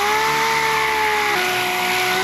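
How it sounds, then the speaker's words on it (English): A Hutchins DA sander fitted with 40-grit paper runs close and loud against PVC pipe, giving a steady tonal whine with a slight pitch drop partway through and no voices over it. "That's 40 grit on a Hutchins DA."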